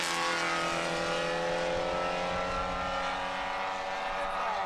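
A red Porsche 944 race car roars past at speed toward the checkered flag at a Grand Prix, a loud high engine whine sweeping by and fading with a falling pitch.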